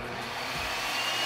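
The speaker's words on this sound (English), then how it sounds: "So now I'm going to just take that blower and blow him off." A dog grooming blower drying a Goldendoodle, a loud, steady, close-up whooshing roar of forced air that runs unbroken without any talk.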